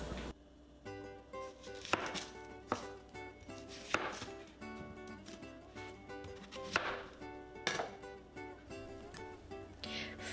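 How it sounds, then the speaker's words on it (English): A knife chops and slices onion and other vegetables on a cutting board for gobi Manchurian, giving steady, fairly close knocks at an irregular rhythm over soft background music, with no talk. "First, slice up all the ingredients. The onion."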